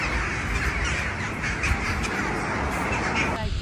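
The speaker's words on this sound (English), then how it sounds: "Thousands of crows swirl above the city, filling the sky with black wings." Thousands of crows caw above a city at evening, a loud, dense, unbroken chorus of overlapping calls from a huge swirling flock.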